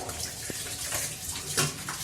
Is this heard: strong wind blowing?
no